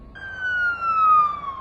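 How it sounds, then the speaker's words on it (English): A single siren wail, clear and fairly close, its pitch sliding slowly downward over a faint background rumble. "Sounds of sirens follow minutes later."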